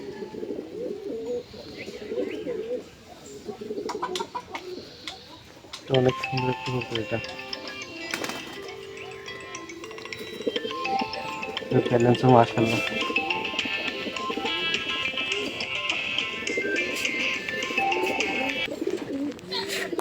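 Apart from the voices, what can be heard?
racing pigeons cooing in loft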